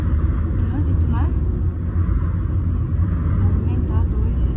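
Steady road traffic rumble heard from inside a car in busy city traffic, a constant low engine and tyre drone running throughout with faint voices now and then.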